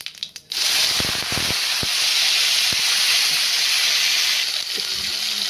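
Potatoes dropped into hot sunflower oil with cumin seeds, bursting into a loud, steady, close hiss of sizzling that runs on unbroken, with a few clinks of utensils and no talking.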